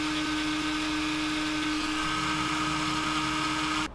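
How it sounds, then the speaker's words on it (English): A Dremel rotary tool grinds and shapes a creek chub fishing lure, a steady high whine running loud and continuous without a break before cutting off at the very end. "time to get the Dremel back out and make that look like it did before"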